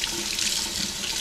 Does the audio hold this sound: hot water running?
yes